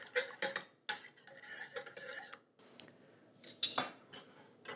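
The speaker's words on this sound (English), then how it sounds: "I'm just gonna use a spoon right now, and then I'll whisk it after I get that going" A spoon mixing a condiment in a small dish, with light clinks and scrapes in quick irregular bursts and brief pauses between them, close but fairly quiet and with no voice.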